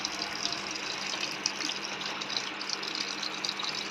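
Steady rushing of water pouring into a washing machine as it fills, a continuous even gush without pauses, moderately quiet, with no voices.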